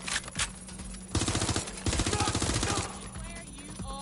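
Rapid automatic gunfire in Watch Dogs Legion rattles in two bursts of about a second each, with a few single shots before and after, fairly close and loud.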